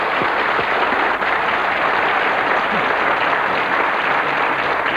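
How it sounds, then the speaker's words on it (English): Steady, loud applause from a TV game show studio audience for contestants, a dense continuous wash of clapping holding at an even level throughout with no voices on top. "Let's give them a nice round of applause."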